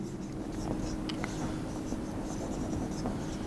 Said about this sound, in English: For example, if I write like this